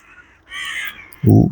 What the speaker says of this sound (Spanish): esos pájaros, qué graznidos, cuervos o no sé, crows